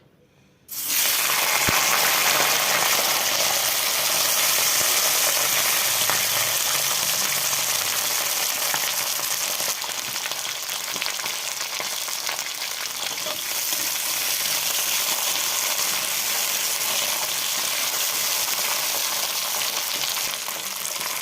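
Cut, washed flat beans hit hot oil in a wok with a sudden loud burst, then settle into a dense, continuous hissing sizzle that carries on strongly to the end.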